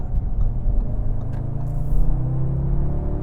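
A 2025 Audi S3 engine rumbles and revs as it is manually downshifted into a turn, a steady low drone with rising pitch from inside the car, no talk.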